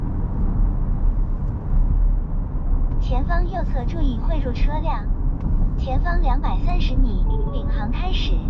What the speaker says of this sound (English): it's telling you navigate on NIO Pilot has officially started